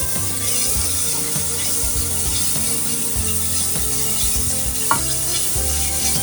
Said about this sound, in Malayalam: തക്കാളി ഇട്ട് വാട്ടുകയാണ്.